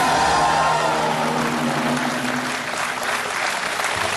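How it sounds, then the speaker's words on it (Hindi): Studio audience on the Hindi-language quiz show Kaun Banega Crorepati bursts into loud, sustained applause that fills the whole stretch with dense, steady clapping. "खड़ी हो जाओ और ताली बजाओ।"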